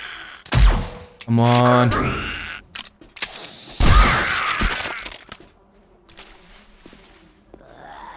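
Suppressed gunshots fire in the zombie survival game 7 Days to Die as sharp, muffled bursts, along with a rising growl and footsteps. A player speaks briefly.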